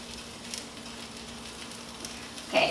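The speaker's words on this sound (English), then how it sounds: "Wow, these sausages are cooking quick." Sausages cooking inside a see-through Supreme Duet fireplace give off a steady, soft sizzle and faint crackle, low and continuous with a slight pop near the end, no talking.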